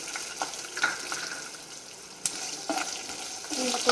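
Green chillies frying in a pan while cooking mushroom biryani, a steady soft sizzle broken by a few sharp stirring clicks and scrapes, close and moderately loud with no talking.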